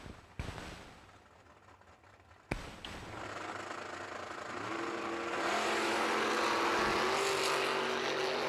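Drag race cars, a Nova and a Roadster, launching down the strip at a summer drag racing event, a sharp bang followed by engines roaring and building into a loud sustained rumble.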